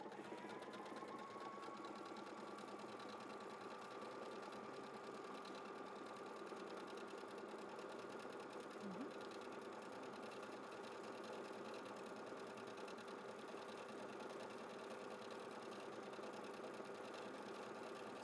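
A Pfaff Creative Performance 950 sewing machine stitches an embroidery design with a steady, continuous motor hum and rapid needle chatter that runs unbroken and close throughout, with no talking.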